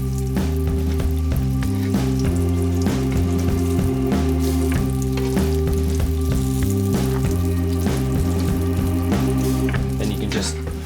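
Bean-filled lavash triangles fry in a pan, browning before being flipped, with a steady, close, loud sizzle and crackle of hot oil holding constant throughout, no pauses.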